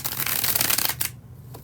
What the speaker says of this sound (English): when I do the bridge shuffle, like I'm about to do for the second and last time